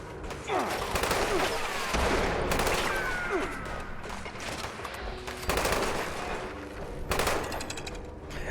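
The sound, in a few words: gunfire shooting at robots in video game Fallout 76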